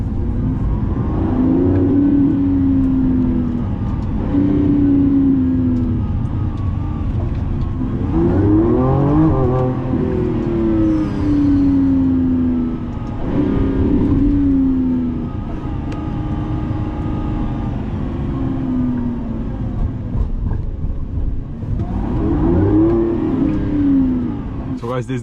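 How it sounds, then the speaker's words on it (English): A 2025 Lamborghini Revuelto V12 revs and pulls while driving, its engine note rising and falling in repeated swells, close and loud, with a person talking over it. "So then the engine will be switched on and you can have the V12 driving."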